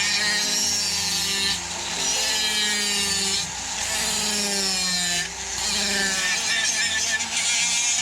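Steady rasping and scraping of a tool working wood as a twin bass fish is carved by hand, continuing in long strokes with brief pauses, close and fairly quiet, with a voice faintly present.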